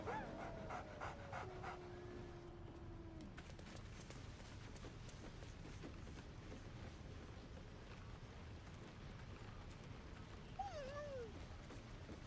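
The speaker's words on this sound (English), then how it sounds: "It's a fucking wolf dog." A wolf dog pants in Baldur's Gate 3, steady rhythmic breathing close up, mixed with game ambience and a few rising tonal calls, no talking.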